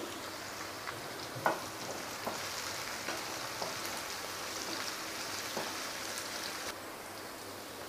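Chopped tomato pieces frying in a pan for a bobbara chikkudu (field bean) masala curry, giving a steady soft sizzle with scattered small pops and a single sharper tap, fairly close and with no talking.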